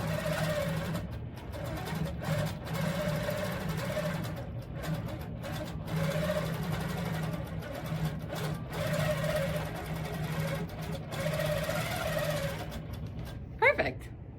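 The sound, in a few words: Handi Quilter Pro-Stitcher longarm machine stitching fabric seams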